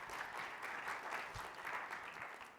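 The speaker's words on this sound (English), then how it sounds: "give yourself a round of applause" A room full of people clapping, a steady dense burst of applause at moderate distance, continuing evenly throughout.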